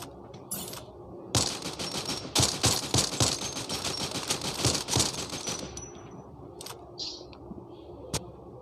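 Rapid bursts of gunfire from a shooting video game ring out close and loud, with a dense volley through the middle and sparse single shots near the end, scoring a headshot.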